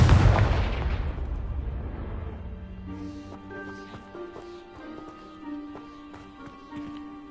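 A Confringo blast spell in the Hogwarts Legacy video game lands with a loud booming explosion that decays over a couple of seconds, followed by quieter tonal magical chimes and light taps.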